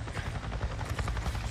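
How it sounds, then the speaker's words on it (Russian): A helicopter's rotor thumps and engine roar fill the air, a steady loud whir passing close overhead with no voices, in the video game Days Gone. "Вертолет Неро прошел прямо надо мной"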